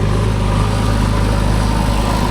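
A JCB 3DX backhoe loader engine runs hard at high RPM, a loud, steady diesel roar with a constant throbbing drone and no break or change in pitch.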